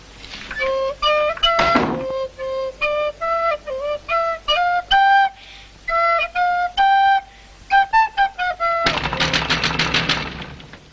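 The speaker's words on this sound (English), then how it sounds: "it's not a penny whistle, it's a recorder" A child plays a recorder, a sequence of clear piped notes in a halting, stepwise tune with brief gaps between phrases, close and fairly loud, ending in a dense, rough burst of sound.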